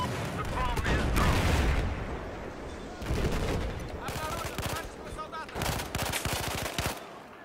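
An AEK 971 assault rifle fires in rapid bursts and single shots in Battlefield 4 on PS4, with other guns crackling around it, loud and dense, while someone talks over the gunfire.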